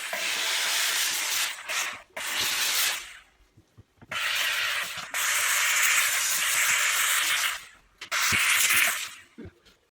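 A steam cleaner hisses inside a washing machine drum in long, loud bursts separated by short pauses, with faint clicks and handling noises between them.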